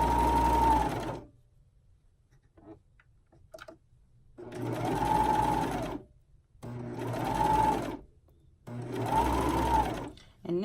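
Regular sewing machine zigzag stitching stretchy swim fabric for a reversible bikini, four loud bursts of fast whirring stitches separated by quiet pauses with faint handling sounds.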